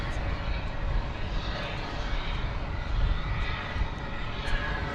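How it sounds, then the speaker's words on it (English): A United Airlines airliner rumbles at an evening airport, a steady mid-level engine roar with light fluctuations, soft voices faintly present beneath. "I think we've got a United flight."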